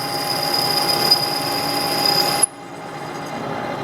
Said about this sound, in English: when you're drilling into solid material, there's no edge for it to catch on